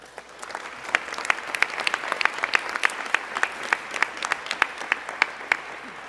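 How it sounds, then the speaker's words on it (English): A gathering at a ministers' announcement of gender equality program funding breaks into light, scattered applause: sharp individual claps pop out distinctly over a quiet room for about six seconds. "they all deserve a round of applause"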